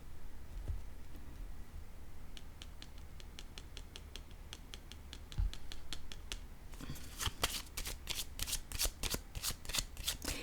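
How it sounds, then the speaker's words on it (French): Playing cards are handled and shuffled up close, first a light sequence of quick ticking flicks, then a louder run of crisp riffling snaps, with no talking. "Je vais déposer une carte ici"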